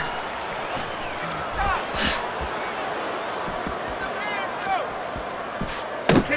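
Punches land in the Fight Night Champion boxing game during a Roy Jones Jr. vs. Mike Tyson bout: a few sharp thudding impacts, including a clear hit near the end, over a constant crowd roar.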